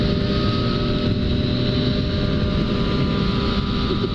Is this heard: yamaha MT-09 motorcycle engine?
yes